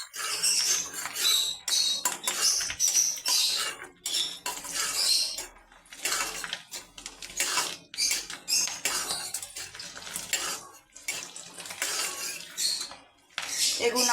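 A metal utensil stirs and scrapes chopped garlic, ginger and chili frying in oil in a pan, with repeated clinks and clattering strokes in an uneven rhythm, loud and close.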